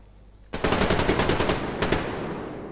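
Rapid automatic gunfire from a weapon in the online first-person shooter Survarium, a loud burst of closely spaced shots opening abruptly and running on with a brief lull before more shots.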